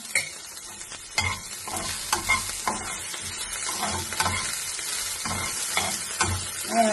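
About 400 grams of ivy gourd (kovakka) dry-roasting with a little salt in a pan, steady frying sizzle broken by repeated scraping and stirring clatters, close and moderately loud.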